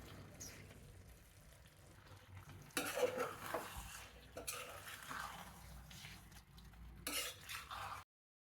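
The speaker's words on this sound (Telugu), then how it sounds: "సొరకాయ ముక్కలు ఈ నీళ్ళతో సహా వేసేసేస్తున్నాను" Pieces of bottle gourd tipped with their water into a cooking pot of tomato and sorrel leaves, giving a sudden splashing clatter, then steady sizzling and stirring scrapes against the metal pot, close and fairly loud, with a second burst near the end.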